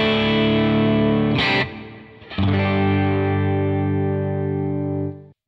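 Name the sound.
UAFX Del-Verb pedal reverb only, 224 setting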